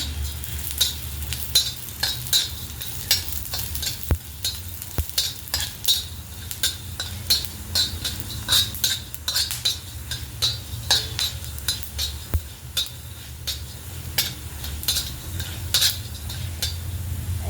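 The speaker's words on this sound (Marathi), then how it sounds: "आणि यात आपण धणे भाजून घेणार आहोत" Coriander seeds dry roasting in a pan, a constant light rattle and scraping of stirring with quick metallic clinks, close up and without speech.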